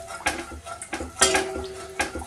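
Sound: mixing cornflakes with melted topping in a bowl

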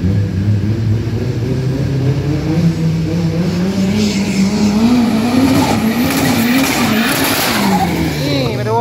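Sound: Toyota Starlet drag racing car

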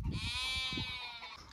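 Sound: goat bleating

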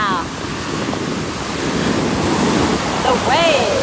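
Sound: ocean waves on the shore

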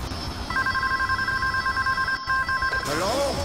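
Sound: satellite phone ringing in Scarface: The World Is Yours video game

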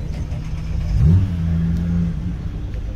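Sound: BMW Z4 car engine starting and revving

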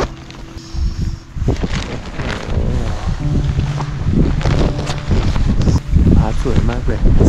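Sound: strong wind flapping a tent on a mountain

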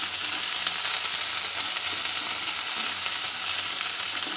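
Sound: sautéing mushroom pepper fry in a pan

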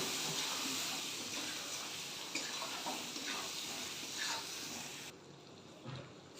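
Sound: potatoes frying in spice paste in a pan

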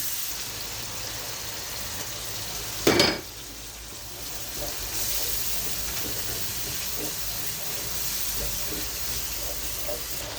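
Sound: beef cooking in pan with onion, chili, turmeric, salt

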